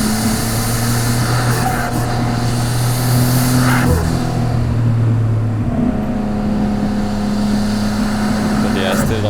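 A 1993 Nissan Skyline R32 GTR drives through corners on a mountain touge road, its engine droning and shifting in pitch steadily and loudly from inside the cabin, with a voice talking over it.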